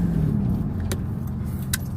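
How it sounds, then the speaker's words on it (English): Steady low car engine rumble from inside the cabin while driving on a sunny day, continuous and fairly loud, with a couple of brief faint high clicks. "hopefully you guys can hear me. Or I mean hear the car."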